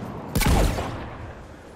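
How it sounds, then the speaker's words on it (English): Guns fire at Cerberus ships in Mass Effect 3: a single loud, heavy blast with a sweeping whoosh that quickly fades into a rumbling tail. "the guns are already picking Cerberus ships out of the sky"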